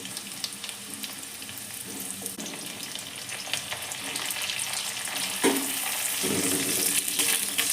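Papaya pieces fry in oil with garlic and ginger for a vegetable stew, a continuous close hiss of sizzling oil that swells a little toward the end, with soft stirring sounds.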